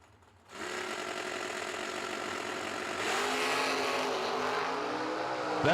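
A drag racing car launches hard off the line at a summer drag racing event, a sudden loud engine roar that holds steady and strong, rising slightly as the car pulls away, with no talk.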